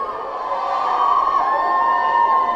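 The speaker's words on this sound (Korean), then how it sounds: "이렇게나 많은 팬들이 김혜자 선생님께 환호를 보내고 있습니다" A crowd of fans cheers and shouts with high, excited voices at a red carpet for actress Kim Hye-ja at the 2019 Baeksang Arts Awards. The sustained, loud roar swells slightly toward the end.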